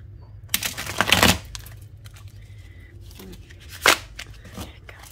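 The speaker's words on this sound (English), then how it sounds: "I like to get that little back shuffle." A deck of tarot cards gets a back shuffle: a dense riffling rustle for under a second, then a softer flutter, and a second short crisp burst of cards a few seconds later, all close by.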